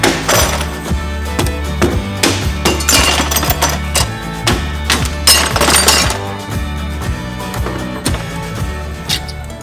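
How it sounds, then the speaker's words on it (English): Hammer blows shatter a cracked glass pane in an old warehouse window under a cardboard cover, giving a loud run of repeated sharp cracks and crunching breakage with glass tinkling between strikes. "I'm going to use a hammer, and I've got the cardboard over the top"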